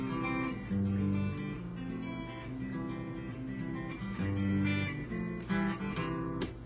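A guitar plays the intro riff of a song: a steady, close run of ringing picked notes with a sustained chordal ring, continuous and unaccompanied.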